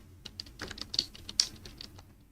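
Fingers tap quickly on a computer keyboard, a close run of light, uneven clicks with a few sharper keystrokes standing out in a quiet room.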